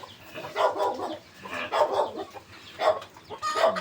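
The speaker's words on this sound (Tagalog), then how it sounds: "ang ingay ng manok na to" Several bursts of chicken clucking, a bird fussing repeatedly in short, uneven phrases, fairly close with a little background noise, during rainy weather.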